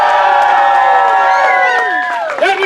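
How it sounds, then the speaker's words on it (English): A theatre crowd at a Shakespeare event cheers and whoops loudly on cue, a dense sustained roar of many voices that fades slightly toward the end. "I am Will Shakespeare, which means you should cheer now!"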